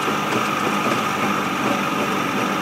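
A running engine misfiring while in gear as power is added, a loud, steady, rough drone that stays dense throughout with no talk over it.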